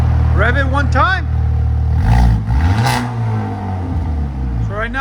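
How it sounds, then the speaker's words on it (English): A Hyundai Kona N engine revs through an aftermarket cat-back exhaust, a close, loud rising and falling blip with a deep idle rumble beneath, while people talk over it. "Rev it one time."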